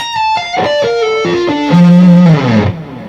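Clean electric guitar sweep-picks a rapid descending run, each note ringing into the next with reverb and echoing delay from an Axe effects unit, ending on a sustained low note.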